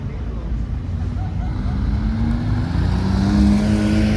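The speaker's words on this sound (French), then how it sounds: "ça c'est une vraie Ferrari qui arrive. La F8." A Ferrari F8 Spider arrives at the Zoute GP car event, its engine a low rising rumble that builds and draws closer under the general noise of the crowd.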